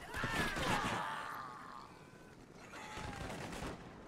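Troops volley musket fire in Shogun Total War, a crackling burst of overlapping shots up close, then a quieter second burst a few seconds later, with faint battlefield voices underneath.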